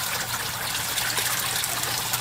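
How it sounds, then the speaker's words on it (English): Water pump in an aquaponics grow bed system runs steadily, a constant gushing, trickling flow with a low hum underneath, close and even throughout with no talking. "there's actually two water pumps"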